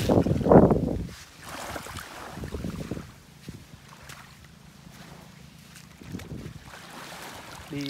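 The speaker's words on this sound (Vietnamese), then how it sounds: "Ở ngoài biển gió mát quá mọi người ơi." Wind at a sea shore while gathering pebbles, with a loud gust buffeting at the start, then a lower steady rush with faint low hum and occasional soft bursts.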